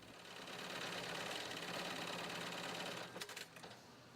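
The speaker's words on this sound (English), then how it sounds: "Workers use heavy-duty sewing machines to stitch Velcro and other materials to the BCD." A heavy-duty industrial sewing machine stitches Velcro onto a scuba BCD, running as a steady, fairly loud mechanical whir for about three seconds before breaking into a few short bursts as it stops and restarts.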